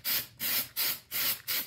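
Short hissing bursts of spray paint onto an electric guitar headstock, five in a row with brief gaps between, close and steady in loudness.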